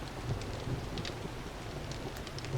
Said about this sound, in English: But big ol' storm tonight.